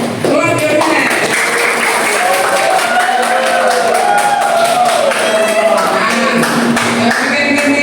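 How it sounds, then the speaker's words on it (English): A classroom group claps hands during a teaching activity, a sustained dense round of applause lasting several seconds with mixed voices and chatter underneath. "Clap your hands."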